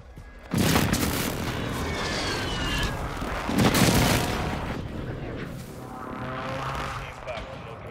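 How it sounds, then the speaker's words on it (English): Airstrike explosions in Call of Duty, a couple of heavy booming blasts with rumbling gunfire and battle noise running through, loud and sustained, with voices talking over the top. "I airstriked it."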